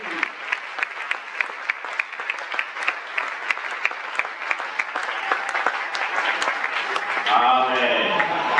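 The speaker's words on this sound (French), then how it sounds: "acclamant très fort le Seigneur et en poussant des cris de joie" A church congregation at a Sunday service claps in a steady rhythmic beat, loud and sustained, with voices and cheering mixed in and swelling toward the end.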